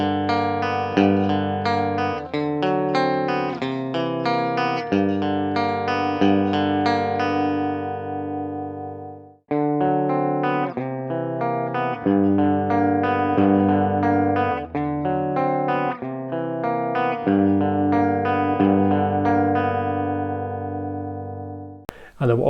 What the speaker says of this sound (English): I'll be doing some clean sounds with just picked notes,